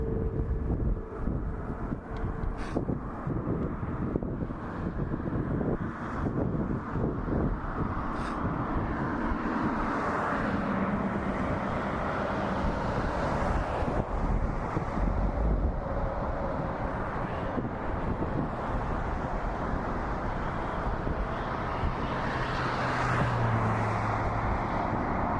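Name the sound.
TAP Air Portugal Airbus A321neo taking off at night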